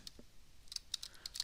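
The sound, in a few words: typing a command on a computer keyboard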